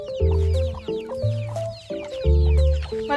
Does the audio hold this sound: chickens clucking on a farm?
yes